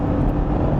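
A VW Touareg V8 4.0 TDI flagship SUV accelerating hard in a straight line, heard as a brief, steady, loud low engine and road roar with no voices.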